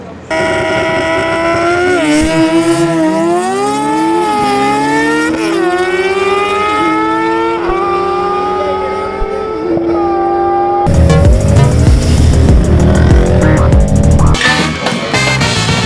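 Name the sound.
sport motorcycle engine racing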